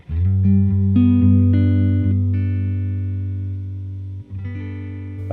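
Electric guitar played through a pedalboard on a bass-heavy setting, with sustained distorted chords ringing out loud and close, shifting a few times and slowly decaying before a fresh strum at the end.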